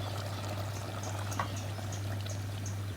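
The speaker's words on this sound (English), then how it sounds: "Now add the fish sauce." Fish sauce is poured into a bubbling Thai panang beef red curry as it cooks over heat: a steady, close liquid pour over a low simmering hum, with no talking.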